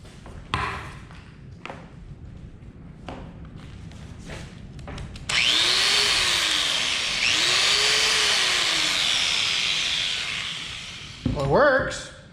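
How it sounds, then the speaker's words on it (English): A used Bosch grinder from an auction lot whirs up to speed and runs steadily for several seconds, loud and close, then winds down, with clicks and handling noises before it starts. "So it's a Bosch grinder. We'll see if it runs."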